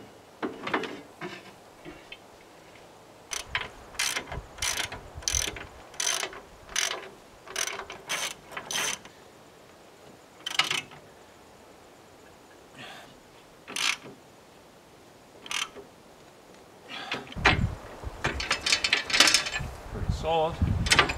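Metal clanks, ratcheting and wrench clicks come in short irregular bursts while a saw bench is bolted onto an 80-year-old Allis Chalmers tractor, close and fairly loud, with a busier clattering stretch near the end.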